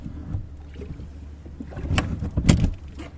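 A boat crossing water to the far side, with low rumbling motion and wind buffeting the microphone, plus two sharper splashing or knocking bursts near the end; nobody speaks.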